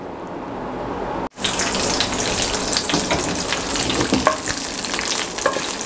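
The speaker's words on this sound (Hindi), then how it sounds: "तो अभी पीनट और जो मेरे पास ड्राई लाल मिर्च है उसको थोड़ा सा मैं फ्राई करके इसमें शामिल करूंगा।" Peanuts and dry red chilies, roasted for kung pao chicken, hit the pan after a brief quiet gap and burst into a loud, continuous crackling sizzle with scattered pops.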